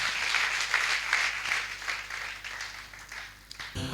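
A church congregation applauding to acclaim the Lord, a sustained wash of many hands clapping together, fairly distant and easing off toward the end.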